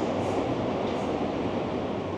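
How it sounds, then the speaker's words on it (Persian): Metro train in Berlin rumbles past as a steady, dense roar that stays loud for the whole stretch, with no voices over it. "این متروه بده صداش کم بشه"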